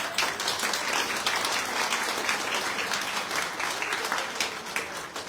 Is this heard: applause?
yes